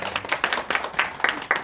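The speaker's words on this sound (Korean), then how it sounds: "박수 한번 해주세요." A small group claps at a church fellowship meeting, scattered, uneven clapping that comes in short bursts, close and fairly quiet, with no talk over it.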